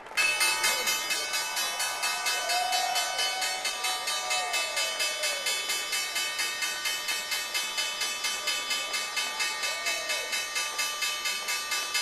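The opening bell at the stock exchange rings as a rapid, steady electric clang repeating for several seconds, loud and metallic, with faint crowd murmur and voices beneath.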